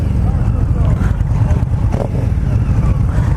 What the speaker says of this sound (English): We'll give this one a little rev